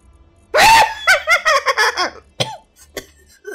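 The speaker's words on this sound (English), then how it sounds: "I've never heard of a broomstick making someone cough like that" During a Space Engineers gaming session, a person breaks into a harsh cough that turns into a rapid run of choppy, laugh-like bursts, loud and close, then trails off into quieter catches.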